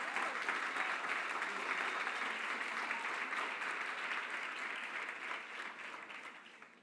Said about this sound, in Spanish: Si vas a aplaudir, apláudale al Señor.